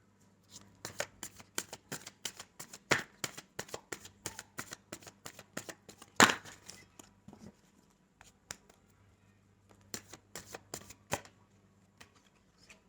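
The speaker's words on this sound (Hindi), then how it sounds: "जब तक मैं कार्ड शफल कर रही हूँ" Tarot cards being shuffled by hand, a long run of crisp riffling and slapping bursts at close range, with a brief faint hum in the background and one sharper snap partway through.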